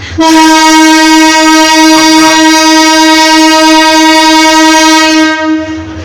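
A loud, sustained train horn blares at Dhaka's airport railway station, a steady harmonic blast lasting about five seconds before cutting off, with a brief rattle partway through.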